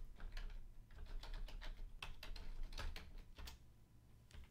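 Quick, uneven clicking of keys on a computer keyboard, close and fairly quiet, in bursts of taps with brief pauses and no talking.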